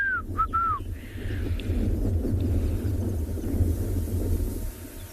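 A black-crowned tchagra gives a few clear, slurred whistles early on, at moderate distance in the Tswalu Kalahari bush at sunrise, then falls quiet over a steady low rumble.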